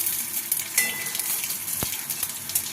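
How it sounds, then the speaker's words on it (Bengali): Radhuni seeds and bay leaves sizzle in hot oil, a steady frying hiss with a few sharp crackles and a faint stir. "এবার রাঁধুনিটা আমি ফোড়নে দিয়ে দিচ্ছি। তেজপাতা, রাঁধুনি"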